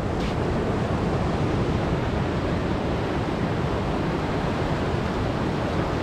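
Steady roar of surf washing onto a clam-digging beach, loud and continuous broadband wash with no voices, close and unbroken for the whole stretch.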